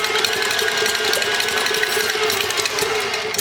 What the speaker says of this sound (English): we're going to beat the egg whites, cream of tartar, and salt on medium speed until foamy